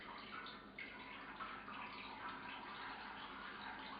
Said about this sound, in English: Now I got a bag full of water that's not going anywhere.